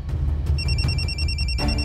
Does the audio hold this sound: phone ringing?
yes